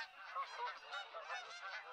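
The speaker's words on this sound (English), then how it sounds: "There are also maybe some geese down there." Geese honk in the hunting video game TheHunter: Call of the Wild, a continuous chorus of overlapping nasal calls at moderate distance, steady in loudness over two seconds with no voices.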